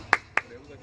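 Two sharp claps about a quarter second apart from a song, bright and close, with quiet background between.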